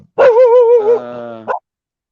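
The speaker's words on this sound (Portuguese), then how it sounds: "os cachorros estão dando uma latidinha" A dog on Guarani indigenous land in São Paulo lets out a loud, drawn-out, wavering bark-howl, close by, ending in a short yip.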